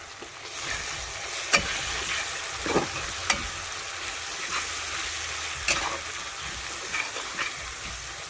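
Chopped tomato and turmeric powder frying in a pan give a steady sizzle, with scattered sharp clicks and scrapes of stirring cutting through the close, continuous crackle.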